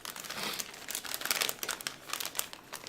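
A crinkly plastic snack bag of crisp almond cookies from an Italian snack box is squeezed and tugged by hand, producing loud, continuous close crackling and crumpling with bursts of sharper crunches, no voices over it.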